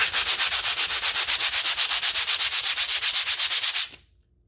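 Harsh, rhythmic grinding scrape like sandpaper rubbing together, imitating a motor cold-starting on thick or dirty oil, repeating in rapid even pulses for about four seconds before cutting off abruptly, loud and alone with no talk.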